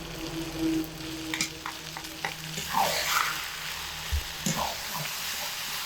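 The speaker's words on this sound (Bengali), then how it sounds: "দিয়ে 1 মিনিট সময় ধরে নেড়ে চেড়ে নিয়ে তবেই এটাকে নামিয়ে দেব।" Cabbage cooked with a fish head and a ground whole-spice paste is stirred and fried in a pan, a soft steady sizzle broken by spatula scrapes and knocks, with no voices.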